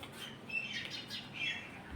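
Sparrows at their nest make soft, quick chirps and squawks in short bursts, faint and fairly close, against a quiet background.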